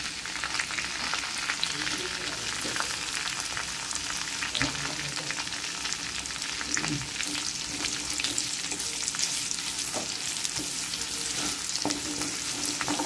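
Chilies crackle and fry in hot oil seasoned with asafoetida for a spicy potato curry, a dense steady sizzle with scattered pops and occasional stirring throughout.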